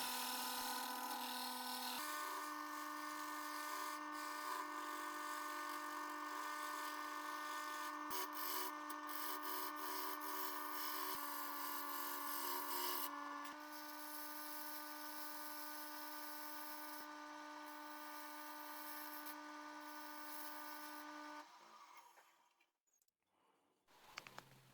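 Steady high-pitched grinding and scraping of a tool cutting wood on a spinning lathe, continuous and close, winding down and stopping near the end.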